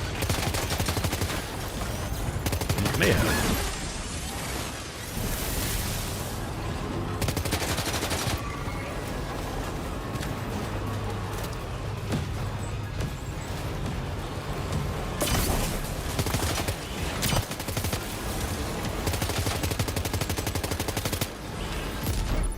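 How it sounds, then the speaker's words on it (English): Cannon fire in a video game, sounding as repeated loud booming blasts across a dense, noisy battle soundscape with rapid gunfire-like bursts throughout. "Wait, did that cannon just fire on its own?"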